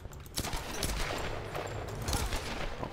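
Gunfire from a player's gun in the video game Tomb Raider, dense and continuous bursts of shots filling the whole stretch at steady loudness.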